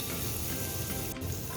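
Capsicum, carrot, green chilli, cabbage and peas fry over a medium flame in ghee with cumin in a pan, a soft, even crackling sizzle, quiet and unbroken, with no talk.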